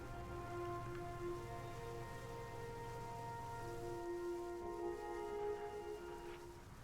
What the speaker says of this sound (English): Seems a bit rainy.